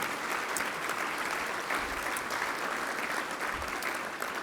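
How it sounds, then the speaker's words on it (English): Sustained applause from a seated audience at the Wireless Hall of Fame awards dinner, a dense even wash of many hands clapping, heard from a moderate distance with no speech over it. "So please give them another round of applause,"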